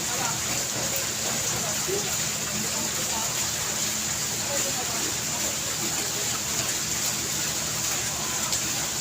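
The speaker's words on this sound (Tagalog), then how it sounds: "Lakas kasi ng ulan dito sa Tagaytay" Heavy rain in Tagaytay falls as a dense, unbroken hiss of drops striking surfaces, loud and constant throughout with no pauses.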